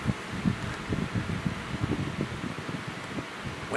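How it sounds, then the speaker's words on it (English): A Lasko wind machine fan runs steadily with a soft, whooshing airflow and faint fluttering rustle, fairly quiet and alone without talk. "Wind machine."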